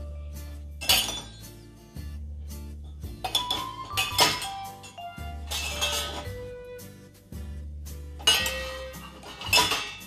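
Glasses and dishes are loaded into an IFB Neptune VX dishwasher, producing a series of close, bright clinks and knocks of glass and crockery, spaced irregularly over a low background hum, with no voices.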